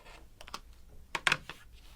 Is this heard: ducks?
no